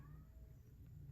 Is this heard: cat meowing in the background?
yes